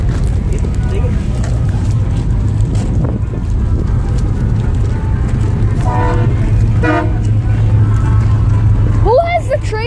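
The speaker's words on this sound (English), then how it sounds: "Who has the train horn?" A train horn mounted on a truck at a truck show blares in short bursts over steady crowd and engine noise, with people talking nearby throughout.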